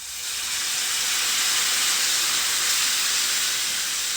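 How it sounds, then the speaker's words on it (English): Cooking wine poured into a hot pan of sofrito for black beans erupts into a loud, sustained steam hiss that swells quickly and holds steady, close and alone. "I'm gonna add some vino seco to lift that up."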